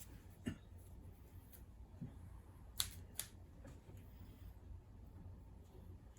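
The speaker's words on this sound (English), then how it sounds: "I need a pair of scissors to clean the end of that thread up." A few sharp scissor snips cutting thread while servicing a Singer Talent sewing machine in a quiet room, spaced irregularly, close and crisp against faint background hiss.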